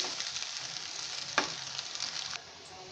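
Boiled macaroni fries with vegetables in a pan, giving a steady close sizzle with one sharp stir partway through. The sizzle drops away near the end.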